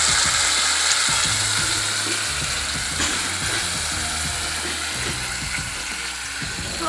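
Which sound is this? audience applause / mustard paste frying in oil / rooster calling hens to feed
mustard paste frying in oil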